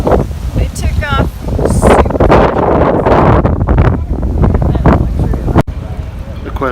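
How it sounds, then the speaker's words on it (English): Strong wind at sea buffets the microphone in a steady roar aboard a moving sailboat, with voices talking over it and a low rumble underneath. "It's super windy today"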